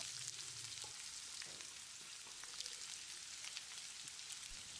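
Cauliflower stir-fried in a pan with pepper powder and salt gives a steady close sizzle and crackle with faint scraping from stirring, running unbroken for several seconds.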